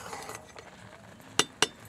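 Spoon stirring boiling rice in a cooking pot with the lid removed: faint scraping followed by two sharp metallic clinks close by.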